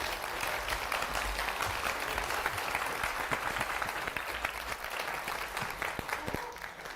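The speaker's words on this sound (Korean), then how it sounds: "단상의 박수로 모시겠습니다" An audience at a psychology lecture applauds to welcome a professor to the stage, a steady, dense clapping from a sizeable crowd that holds for several seconds before easing slightly.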